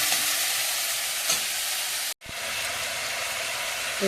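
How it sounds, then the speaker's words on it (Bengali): Ginger-garlic paste sautéing in a pan, a loud continuous hiss and crackle with stirring that stops abruptly for a brief moment, then resumes just as strongly. "আদা রসুন পেস্ট, দিয়ে কষিয়ে নেব।"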